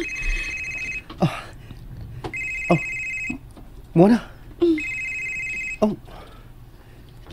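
A mobile phone rings in a repeated electronic trill in bursts, close and clear, while people talk over and between the rings.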